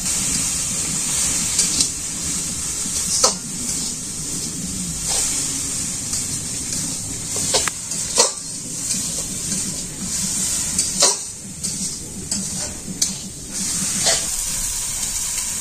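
Water splashed into a hot pan of frying fish and garlic sets off a loud, steady sizzling hiss that runs the whole time, with scattered sharp pops and crackles.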